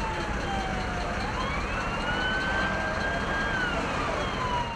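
A wailing ambulance siren rises and falls continuously over heavy traffic rumble at a 12-car pileup on a motorway, loud and steady throughout.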